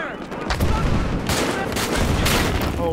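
Heavy gunfire in Battlefield 2042 in dense, overlapping bursts, loud and close, with booming impacts rolling through the mix.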